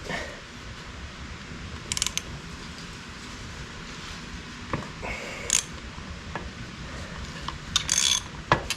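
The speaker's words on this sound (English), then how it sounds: "Got the flywheel puller. It's reverse threaded." Metal tool clicks and ratchet-like clatter from a reverse-threaded flywheel puller being worked on the flywheel of a 1974 Yamaha DT175 dirt bike, with sharp, close, intermittent clanks over a steady low hum.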